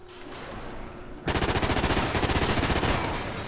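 A CBJ-MS submachine gun fires in a video game: after a quieter stretch, a loud, rapid burst of closely spaced shots starts and runs continuously to the end, fading slightly at the close.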